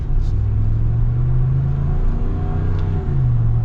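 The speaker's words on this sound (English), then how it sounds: "Love the sound of the Hemi. I'm gonna be so sad when this engine is gone." A loud, deep Hemi V8 engine in a 2022 Ram 1500 Rocky Ridge K2 pickup rumbles and pulls steadily, its low drone rising slightly as the truck accelerates, heard from inside the cab.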